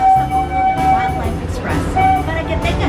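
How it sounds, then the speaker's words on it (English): A small amusement park train ride at Disney's Animal Kingdom rumbles and clatters along with steady mechanical noise and faint tonal squeals, with crowd chatter in the background. "so happy to be on a choo-choo train"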